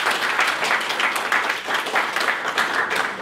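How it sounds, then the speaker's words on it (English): An audience applauds a guest scientist at an interview event, a steady wash of many hands clapping throughout at moderate loudness, with no speech over it. "Let's give him a round of applause here."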